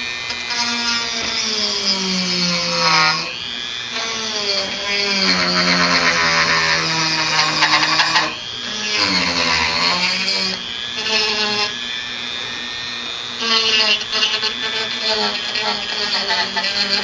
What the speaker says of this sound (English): This Dremel grinder, they're really neat to have around home.